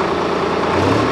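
A Solis Yanmar 5015 tractor engine runs steadily at close range, a loud, continuous mechanical drone with no voices over it.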